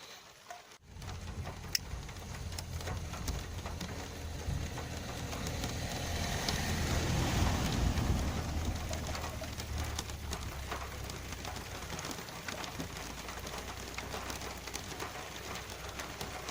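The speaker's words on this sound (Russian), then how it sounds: "Дождик идет" Steady rain falls on a riverbank during a fishing trip, a continuous broad hiss with soft patter that swells slightly midway, close and even, with no talking.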